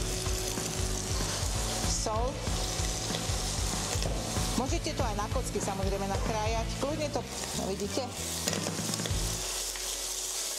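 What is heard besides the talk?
bacon sizzling while frying in a pan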